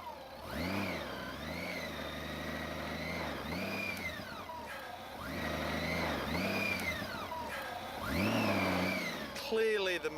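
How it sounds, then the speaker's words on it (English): A big Honda Goldwing motorcycle stuck in sand revs its engine repeatedly, each throttle blip rising and falling in pitch with a strained, loud rumble, in roughly three or four surges close to the listener. "the big Honda Goldwing doesn't like playing in sand"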